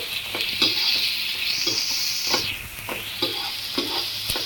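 Steady, close sizzling of green onions frying in hot oil, interrupted by repeated scrapes and knocks of a spoon stirring the pan; no talking.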